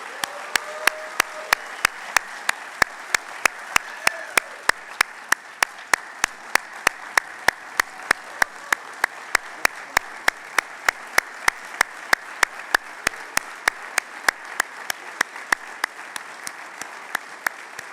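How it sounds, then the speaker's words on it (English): Steady applause from an audience at an alumni award ceremony, an even continuous patter of many hands heard at a distance, with regular sharp clicks running through it. "please join me in another round of applause"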